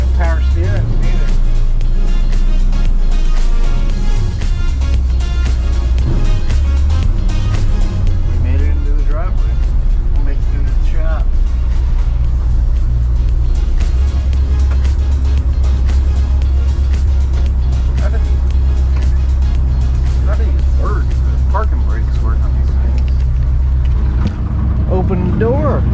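A 1966 Ford F100 pickup truck with leaking rear wheel cylinders, dragging brakes and no power steering runs and drives, its engine a steady, loud low rumble throughout under near-constant talking.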